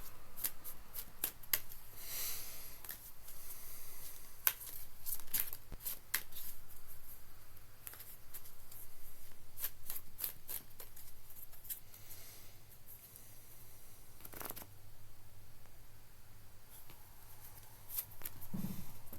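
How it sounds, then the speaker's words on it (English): Tarot cards are shuffled by hand in repeated crisp riffles and soft slides, close and clear over quiet room tone, with no talking. "I wanna pull a card here and just see what is that about."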